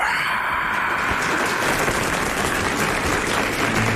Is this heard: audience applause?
yes